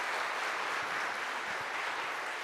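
A crowd applauds a guest speaker at a community talk, a steady wash of clapping at moderate volume with no voices standing out.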